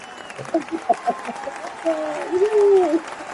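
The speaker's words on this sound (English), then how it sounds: "I'll turn the cheers up." Canned cheering and applause sound effect played during a live comics talk show, a crowd roar rising and swelling toward the end, with voices and whoops over it.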